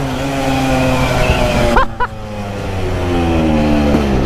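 A loud, deep Vespa scooter engine drone booms continuously, close up, with a brief dip in the middle before the rumbling exhaust resumes; no talking.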